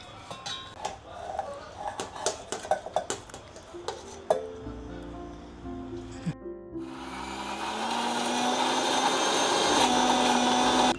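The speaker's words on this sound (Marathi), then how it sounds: "आता मी मिक्सरच्या भांड्यात टाकते, फिरून घेते।" Cooled roasted masala for a Katla fish curry is loaded into a mixer grinder jar with light clinks and taps, then the grinder starts with a loud, steady, continuous whirring roar.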